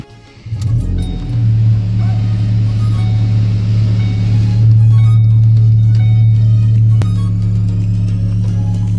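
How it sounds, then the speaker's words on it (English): A car fitted with a Steeda short shifter and transmission mount bracket starts up and runs with a loud, steady low engine drone close by, continuing without a break through the clip. "Now we're going to go ahead and take it for a test drive, see how it works."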